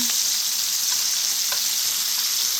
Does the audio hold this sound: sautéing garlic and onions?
yes